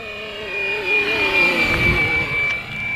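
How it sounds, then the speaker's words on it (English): A beginner RC helicopter flies close by, its rotor and motor giving a steady high whine with a sustained tone and a wavering lower drone throughout. "the world's most expensive beginner helicopter"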